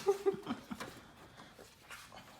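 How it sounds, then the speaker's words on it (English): A shop dog in a car workshop where a projector headlight is being installed, giving a few soft close whimpers and short whiny yips at the start, then faint snuffling. "If you see any of us trip, that's because our shop dog Bella's here."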